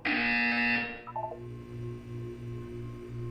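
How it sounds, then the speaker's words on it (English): Buzzer in the video game Portal 2, a loud harsh electronic tone held for about a second, followed by a short descending chime and a soft pulsing hum. "When you hear the buzzer, look down at the floor."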